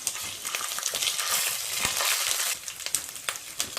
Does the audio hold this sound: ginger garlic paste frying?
yes